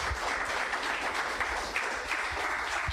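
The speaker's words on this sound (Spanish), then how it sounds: "Dale fuerte el aplauso al Señor." A church congregation applauds during a sermon, a continuous wash of clapping heard from a distance at moderate volume.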